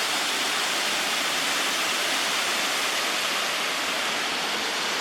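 A New Zealand waterfall roars as a loud, constant broadband rush of falling water, steady and close with no pauses and no voices.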